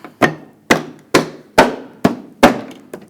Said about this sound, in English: Tap it in place.